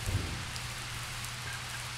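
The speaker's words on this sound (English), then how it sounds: "the rain might stop" Rain falls steadily in the video game The Touryst as an even, soft hiss with a low rumble beneath, faint and unbroken for two seconds.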